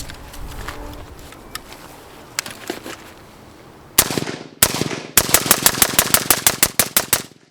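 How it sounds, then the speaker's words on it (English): A rifle fitted with a Surefire RC2 suppressor fires a few single shots, then a rapid string of about a dozen sharp, loud cracks at a steady fast rhythm, each with a short echoing tail. "We'll throw a couple more rounds down with the suppressor on."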